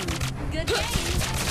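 Rapid bursts of heavy gunfire from a hero's skill in a mobile battle game crackle densely over game music and effects, loud and continuous for a brief moment.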